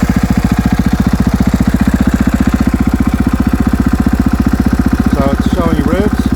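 A KTM 500 EXC-F dirt bike engine idles close by with a loud, steady, rapid thumping beat; a voice briefly cuts in near the end.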